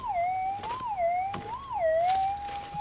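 A metal detector gives a signal tone over a gold nugget at an abandoned gold mine, a loud, steady, wavering electronic whine that rises and falls in pitch as the coil sweeps, with faint scraping underneath.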